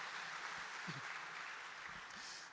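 A church congregation claps together during a worship service, a steady, fairly quiet wash of applause that stays even throughout, with no voices over it.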